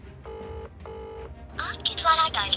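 Two evenly spaced telephone keypad dialing tones beep, followed by a burst of brighter chirping tones and a voice toward the end.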